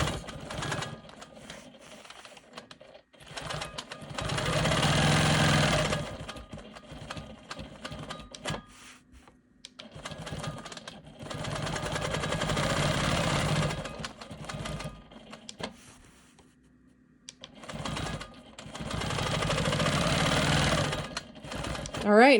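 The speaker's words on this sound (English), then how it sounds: "I'm going to go ahead and stitch in the ditch around this green square, the lighter green." A sewing machine stitches in the ditch and sews quarter-inch offset straight lines across a star cross quilt block, running in several long bursts separated by pauses, with a person talking in between.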